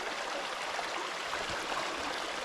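A leaf-strewn creek flows on a hike, giving a soft, steady babble and rush of water that stays constant and fairly faint throughout, with no voices.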